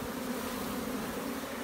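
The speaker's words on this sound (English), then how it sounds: "Look at those thousands of bees." An Africanized honey bee hive hums with a dense, steady buzz of thousands of bees under a shed, loud and continuous without a break.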